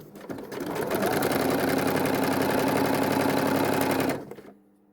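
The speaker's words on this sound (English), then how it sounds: "we are going to sew straight along that line that we just folded" A sewing machine stitching along a folded line with a shortened stitch length, running as a steady, fast, loud mechanical whir for about four seconds before stopping.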